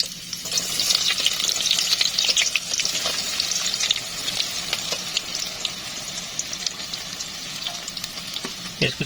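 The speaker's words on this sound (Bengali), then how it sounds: "আমার তেলগুলো গরম হয়ে আসছে, আমি এখন পেঁয়াজগুলো দিয়ে দেবো" Chopped onions fry in hot oil in a pot for a chicken and potato curry, giving a steady, loud sizzle with occasional stirring clicks throughout.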